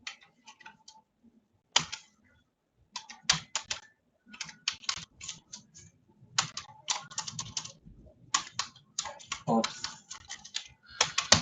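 Rapid, uneven bursts of keystrokes on a computer keyboard while C++ code is being typed, with pauses between runs and a soft background hum.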